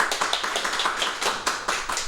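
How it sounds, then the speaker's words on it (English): Audience applause at a forum on voice-acting careers, a short burst of clapping with steady, overlapping claps that stay fairly loud throughout, with no talk over it. "Everybody, a round of applause for Gavin."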